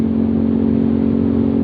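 A Yamaha Aerox 155 scooter fitted with a Proliner aftermarket exhaust runs close by, giving a loud, steady, droning engine note with no pauses.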